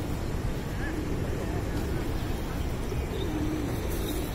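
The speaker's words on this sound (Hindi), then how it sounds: "यहाँ पर कबूतरों की बहुत बहुतात है।" Soft pigeon coos rise from a busy outdoor bed of crowd murmur and background noise at Batu Caves temple near Kuala Lumpur, several low calls scattered through the clip.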